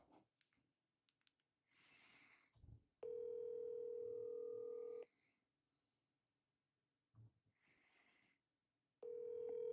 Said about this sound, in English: I'm calling Erin right now.